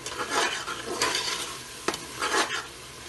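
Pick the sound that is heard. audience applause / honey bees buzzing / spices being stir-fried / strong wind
spices being stir-fried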